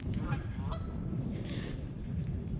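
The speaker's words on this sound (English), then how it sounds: "There's a lot more now." Scattered honks from Canada geese come through a constant low background rumble, the calls brief and fairly distant.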